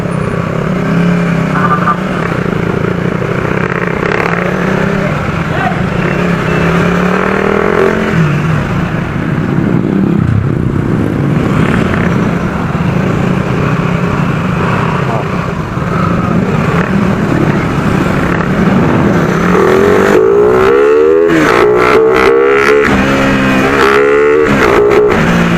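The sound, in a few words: motorcycle engine revving while stuck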